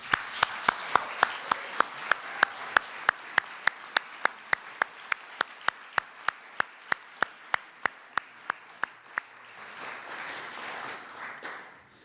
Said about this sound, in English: So maybe we start with giving them a warm round of applause.